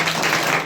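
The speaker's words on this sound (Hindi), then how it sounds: "चलिए, एक अच्छा ताली बजाइए भाई।" A youth meeting crowd claps, producing a brief, dense wash of applause that stays even and fairly loud for under a second.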